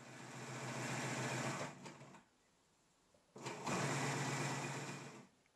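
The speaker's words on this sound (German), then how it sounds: "näht die zweite Kante der Kapuze, also die Naht, die hinten liegt" Sewing machine running in two steady stretches while stitching the back seam of a hood, with a short quiet pause between the runs; close and even.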